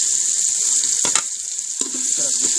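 Tomato and ginger-garlic paste frying in a pan for a masala, a continuous loud hissing sizzle with a brief stirring scrape partway through, no talking.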